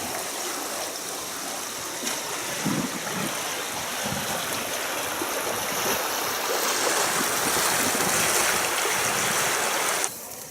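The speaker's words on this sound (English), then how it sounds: "That's the Roaring River behind me, near Jumper Plains in the Duck Mountains of Manitoba" Roaring River near Jumper Plains in the Duck Mountains of Manitoba, a steady broadband rush of flowing water, loud and continuous for the whole stretch, with a few faint knocks and no voices.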